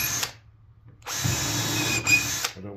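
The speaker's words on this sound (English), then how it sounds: "And I'll pre-drill them down into there." A power drill gives a short burst, pauses briefly, then runs steadily for over a second while pre-drilling into 1.5-inch cedar, close and loud.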